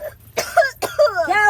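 A person coughing and clearing their throat indoors, with a couple of short harsh rasping bursts close by, mixed with voiced sounds.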